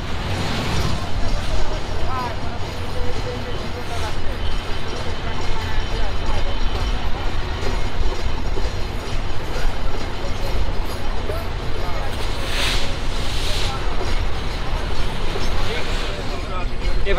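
Continuous broadband rumble of the Chilahati Express rolling along rails through Bangladesh, a steady loud wash of wheel and carriage noise heard from inside the train, with a person talking over it throughout.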